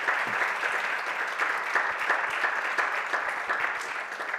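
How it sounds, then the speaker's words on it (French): Sustained audience applause for speakers at a French sustainability conference, steady and fairly dense clapping from a mid-sized crowd, even in level throughout with no voices over it. "on peut les applaudir très fort"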